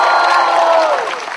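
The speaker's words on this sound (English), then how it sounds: "Give a big round of applause for him" An audience at the Arjun Mirani Show applauds and cheers, a loud, dense wash of clapping and shouting that fades slightly toward the end.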